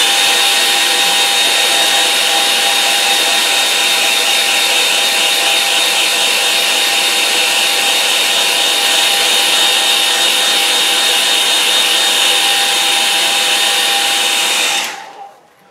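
A hair dryer blows steadily over a wet watercolour painting, a loud continuous whoosh with a faint whine that cuts off abruptly near the end.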